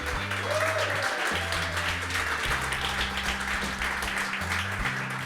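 Crowd applause for a singer's backing band at a live concert, dense continuous clapping over a low held tone from the stage, fairly steady in level.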